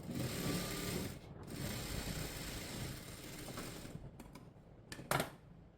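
A sewing machine stitches the neckline of a blouse, a back boat neck with a front deep neck, running in a steady mechanical whir with a few brief pauses and clicks toward the end.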